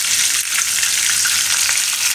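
Gram flour roasts in oil with cumin, asafoetida and curry leaves for a raw banana kofta gravy, a loud, even frying hiss that runs unbroken from start to end, no talking.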